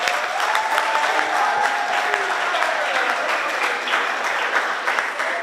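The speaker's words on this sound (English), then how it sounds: "let's give a round of applause." The crowd at a school robotics challenge gives a sustained round of applause, with thick, steady clapping and a few voices calling out over it.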